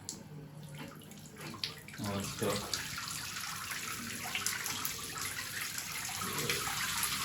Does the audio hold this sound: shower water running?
yes